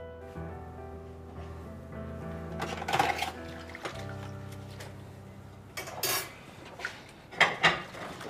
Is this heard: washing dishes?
yes